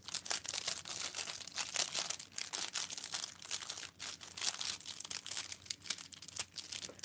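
Crisp snips and crinkling of packaging as scissors cut wrap around soap samples, close and fairly quiet, in an irregular stream of cuts and rustles with no talk.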